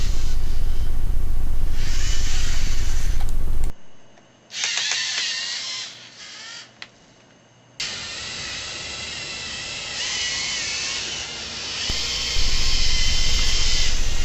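Small LEGO NXT motors turning an omnidirectional bolt give off a high, whirring electric drone that starts and stops in stretches, sometimes fading to near silence between runs, fairly close and loud.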